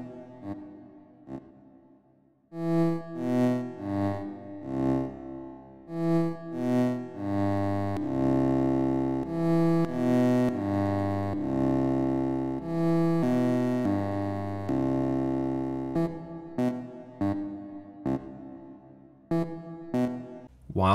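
Synthesizer notes built inside the video game Geometry Dash 2.2 play a sustained, buzzy melody of stacked tones with shifting attack and fade, followed by short clipped stabs near the end, with no talking.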